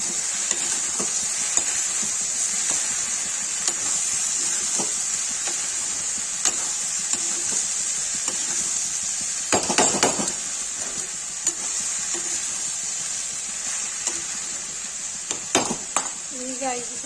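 Okra masala with turmeric and red chilli sizzles steadily in a hot pan, with a constant bright frying hiss and intermittent scraping clicks of a spatula stirring, close up, with occasional speech over it.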